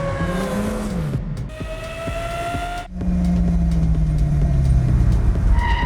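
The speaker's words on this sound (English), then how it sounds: "when the cars are whizzing through the realm, you actually feel it in your ears" Designed sound effect of cars whizzing past in a foggy fantasy realm: several close, loud engine passes with sliding pitch, each sweeping by in turn over a rumbling low bed.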